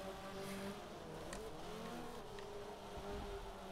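Race cars in Forza 7 roar steadily at a low, constant level, with engine drone and faint tire noise throughout and no voices.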